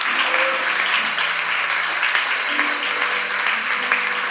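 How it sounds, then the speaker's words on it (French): A congregation applauds its pastor at a church service, steady loud clapping filling the room throughout, with faint voices murmuring underneath. "j'aimerais d'abord vous applaudir le Seigneur pour ton serviteur"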